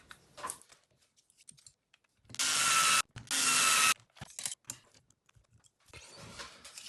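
Screws being driven into an RC8B4.1 RC car chassis, with two loud sustained whirring bursts from a driver plus scattered small ticks and clicks nearby, otherwise quiet.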